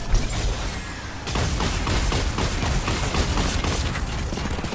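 Dense, loud gunfire bursts from a Fortnite Battle Royale match, rapid shots blurring into a continuous barrage that runs nearly the whole time after a brief opening, with no voices over it.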